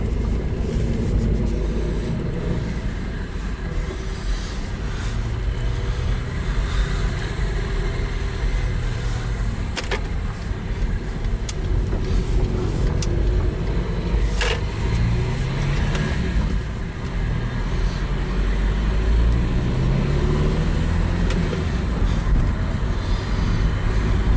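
A VW Caddy engine runs steadily nearby as it shifts through gears, a low rumbling drone with gentle rises in revs between shifts and no talking.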